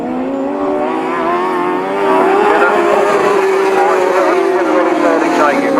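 Grasstrack sidecar racing engines at a British Masters qualifier: a loud, continuous droning roar that rises and wavers as the machines race, with an announcer talking over it.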